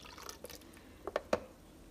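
Homemade green juice pouring into a glass, heard as a few faint drips and light liquid splashes clustered near the end of a quiet moment.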